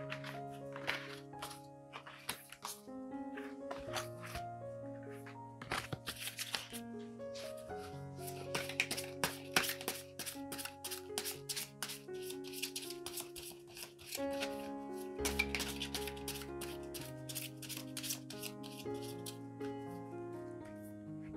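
Tarot cards are shuffled and drawn by hand, soft riffling and slapping taps that run beneath steady melodic background music for about twenty seconds, without anyone speaking.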